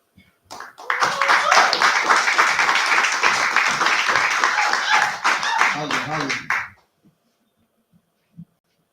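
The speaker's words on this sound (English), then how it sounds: "give a big round of applause for King Kihei" Audience at an entertainment showcase applauds a performer coming to the stage, a loud burst of clapping with voices and cheers mixed in that lasts several seconds, then fades and stops, leaving near silence with a stray faint tap.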